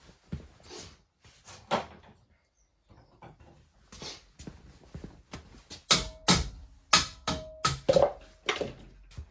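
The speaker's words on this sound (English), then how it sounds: "that noise is my jack" An old car jack being worked on a Mater GTi, giving a run of sharp mechanical clicks and clunks that grow into a steady ratcheting rhythm, with a few faint squeaks among them.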